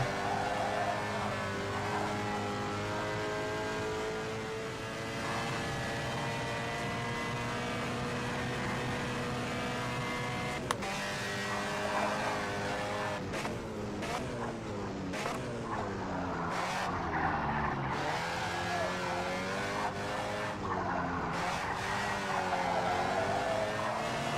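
A race car engine in rFactor 2 at Anglesey drones steadily with shifting pitch, revving up and down through gear changes, loud and continuous throughout.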